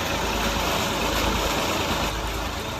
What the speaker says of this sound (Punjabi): ਇਹ ਟਰੈਕਟਰ ਤੇ ਚੱਲਦਾ